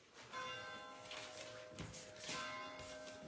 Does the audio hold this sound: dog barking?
no